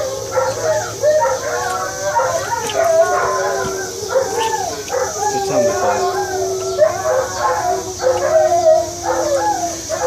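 Dogs howl and whimper in long wavering cries with occasional yips, fairly close and steady throughout.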